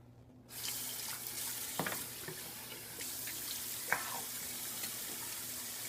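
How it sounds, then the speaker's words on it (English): Running tap water pours steadily into a sink as a razor is rinsed during a shave, a soft continuous splash with a few brief knocks and clinks against the basin. "we're going to rinse once again."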